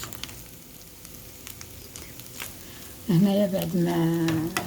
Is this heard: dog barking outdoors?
no